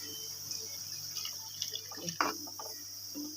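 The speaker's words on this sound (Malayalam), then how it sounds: "ഇനി കുറച്ച് വെള്ളം ഒഴിച്ച്" Water is poured into a pan of clam meat being cooked, a faint trickling splash with a brief louder gush over a quiet kitchen hum and low voice.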